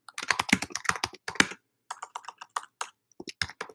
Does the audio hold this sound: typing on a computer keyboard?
yes